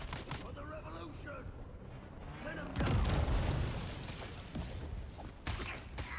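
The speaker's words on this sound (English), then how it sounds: "Grenades get through your shield." Grenade explosions in a video game sound as a heavy, deep boom that swells midway and then rolls off, with a few smaller pops around it, all beneath a player talking steadily.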